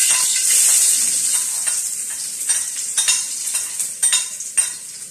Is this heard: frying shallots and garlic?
yes